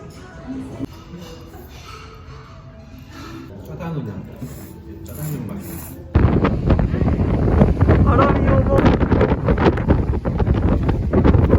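Wind gusting outdoors at Sagye Beach on Jeju Island; voices talk over a low breeze at first, then a loud, steady roar of wind buffets the microphone for the second half.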